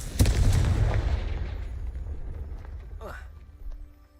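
A Confringo fire spell explodes in the video game Hogwarts Legacy, giving a loud, close boom with a crackling burst that fades into a rumbling tail. A brief whoosh follows near the end.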